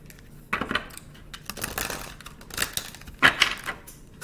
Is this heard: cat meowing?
no